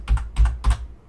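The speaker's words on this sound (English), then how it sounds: "But we're going to use the arrow keys." Arrow keys on a computer keyboard are pressed three times in an even rhythm, crisp and close, with no talk.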